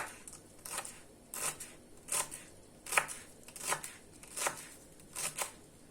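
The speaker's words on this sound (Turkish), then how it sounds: "Öncelikle maydanozumu doğruyorum ben." Knife chopping parsley on a board, a series of crisp, fairly regular chops with brief pauses, close and clear with no talking.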